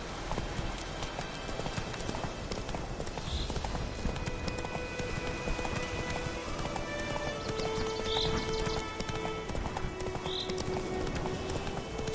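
Horse hooves clip-clop steadily at a gallop in The Witcher 3 video game, continuous and fairly loud, with occasional whinnies over a busy game soundscape and a brief spoken urging to the horse.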